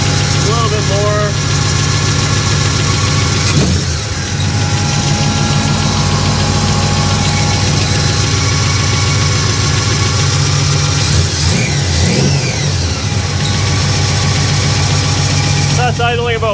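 A 1957 Chevy Bel Air V8 engine idles steadily up close at about 875 rpm, a low lumpy rumble with a mechanical clatter, while a voice talks now and then over it.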